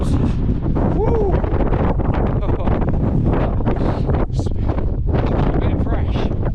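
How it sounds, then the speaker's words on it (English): Strong wind on an exposed hilltop in the Brecon Beacons buffets and roars across the microphone without letup, with a few voices calling out faintly beneath it. "It is windy on the tops."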